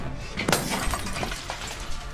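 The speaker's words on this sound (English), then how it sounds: "So they smashed that emergency light too." Glass of an emergency light tube shatters in a loud burst, followed by scattered tinkling and crunching fragments settling over a steady background hiss.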